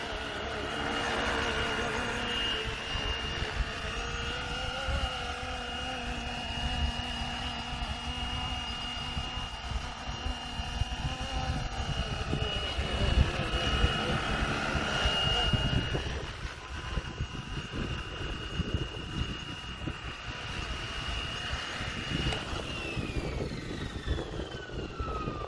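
A Flywing UH1 RC helicopter flies its maiden flight outdoors in South Africa. Its motor gives a steady whine with shifting pitch over a constant windy hum, while a person talks over it now and then.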